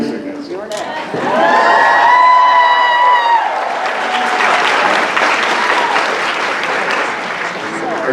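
An audience at a 2023 fan convention with Mitch Pileggi breaks into loud, sustained clapping after a brief sung vocal tone, the dense applause continuing for several seconds with some crowd noise.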